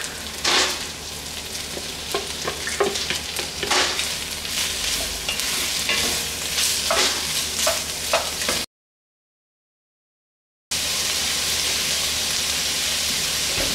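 Pork sausage and pork sizzle steadily in a pan, punctuated by close scraping and stirring strokes, with the loud frying hiss running alone after a brief pause.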